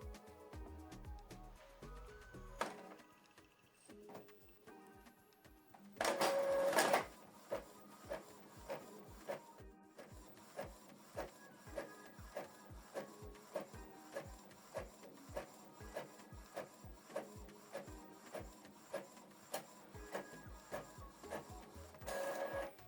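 An Epson ET-4800 inkjet printer prints a document, with a steady run of rhythmic mechanical clicks and feed pulses, a brief louder whir of paper loading partway through, and the print head shuttling back and forth close to the microphone.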